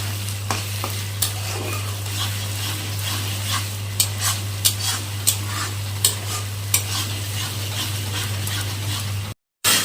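Masala with turmeric, salt and sugar stirred in a pan: a steady low hum with repeated sharp scraping taps of the spatula at irregular intervals, close and fairly loud, no talk.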